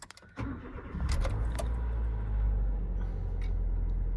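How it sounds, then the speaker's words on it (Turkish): A key turns in the ignition of a Nissan Micra, Juke or Almera, giving a few sharp clicks and jingles before a steady low hum settles in and runs evenly to the end. "Şimdi kontağımızı bir açalım."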